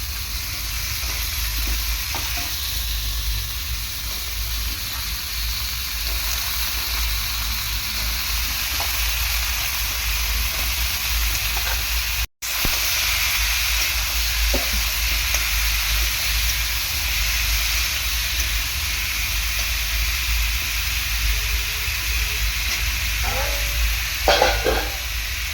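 Potatoes going into a hot pan for a potato curry, frying with a steady sizzle and hiss while being stirred now and then, with a short break midway and a few louder scrapes near the end.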